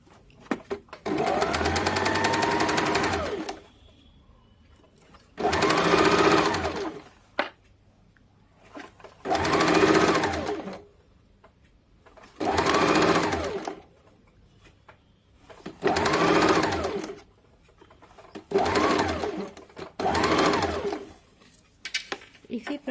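A sewing machine stitches the neck strip of a princess-cut blouse in several separate bursts, each run lasting a few seconds and separated by short pauses, close up and fairly loud. Quiet talk continues through the gaps between the runs.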